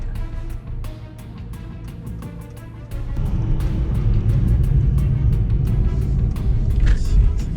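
A Mercedes-AMG E53 Coupe engine rumbles while downshifting, heard from inside the car as a low steady drone that swells and grows louder midway through, with sharp rhythmic ticks above it.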